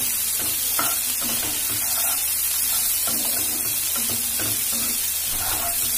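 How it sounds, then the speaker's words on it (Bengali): Food fries in a pan over medium flame while a spoon stirs it, giving a loud, constant sizzle broken by repeated scraping and knocking strokes in an irregular rhythm, with no talking. "দিয়ে আমি একটু নাড়বো"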